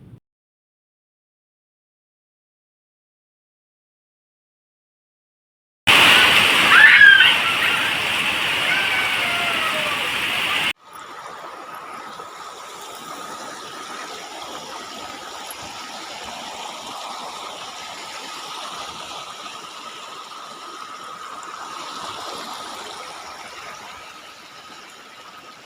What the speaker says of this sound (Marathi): बघा किती पाऊस फुटलाय